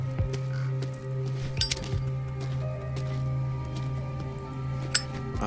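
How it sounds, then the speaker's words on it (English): A few sharp metallic clinks ring out in the horror video game Call of Cthulhu, scattered over a steady low hum and faint background ambience, with no voices. "I like that's very satisfying chinking sound. Chinking, clinking, whatever you want to call it."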